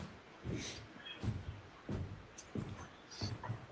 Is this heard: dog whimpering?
yes